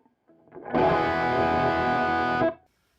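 Distorted electric guitar through a TwoNotes Torpedo Live without power amp simulation, a single sustained chord held for about two seconds with a brief lead-in, then cut off cleanly, no voices.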